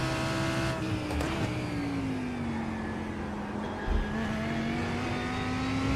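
Race car engine in the iRacing sim game, holding a steady loud drone whose pitch dips slightly and then slowly climbs again, with no talking.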